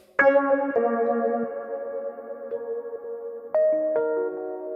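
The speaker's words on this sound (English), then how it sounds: "And you've got a reverb, which is a nice sounding reverb." Mellow Yamaha Reface CP electric piano notes and chords, on a Rhodes Mark 1 sound, ring out slowly, each sustained and trailing into a spacious reverb wash with the reverb maxed out; no talking.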